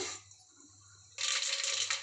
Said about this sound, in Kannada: ಸಾಸಿವೆ ಜೀರಿಗೆ ಹಾಕ್ಕೊಳ್ಳೋಣ.